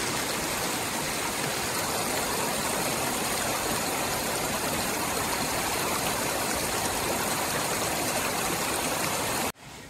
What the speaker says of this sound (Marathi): इकडे हा सुंदर धबधबा बघा.